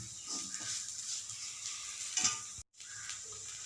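Chicken kondattam sizzling in a pan with crushed chilli while being stirred, a steady close hiss with a few scraping spoon strokes and one brief drop to silence near the end.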